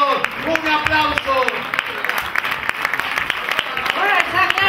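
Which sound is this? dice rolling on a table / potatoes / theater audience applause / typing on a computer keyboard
theater audience applause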